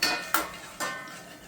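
Onions, green chillies and curry leaves stirred in a steel pan: two sharp metallic scrapes of a spoon against the pan, each ringing briefly and fading, close and clear with no talk.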